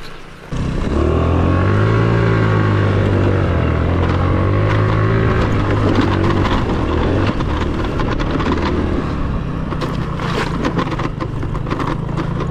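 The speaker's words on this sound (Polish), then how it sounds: "Jest skuter!" A Project Cross scooter fitted with a powerful Chinese engine module rides close by, its engine roaring loudly and steadily with a rising and falling rev note throughout.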